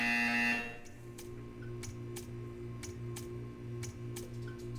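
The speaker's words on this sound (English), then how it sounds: "You will hear a buzzer. When you hear the buzzer, stare at the art." Buzzer in the video game Portal 2, a short loud electronic buzz at the start, followed by a quieter steady hum with a regular pattern of soft ticking clicks.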